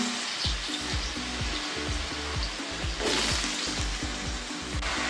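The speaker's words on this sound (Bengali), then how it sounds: "তেল গরম হয়ে গেছে কালো জিরে ভাজা হয়ে গেছে তেলের সঙ্গে এবার আমি আলুগুলোকে দিয়ে দেবো" Potatoes fry in hot oil with black cumin for a Bengali chorchori, a close, continuous sizzle over a rhythmic low pulsing hum, with no voices.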